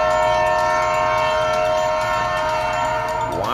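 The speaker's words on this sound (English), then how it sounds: "Why is there a train here?" A train horn blares loud and unbroken for several seconds, a dense chord of sustained tones, with a rising sweep near the end.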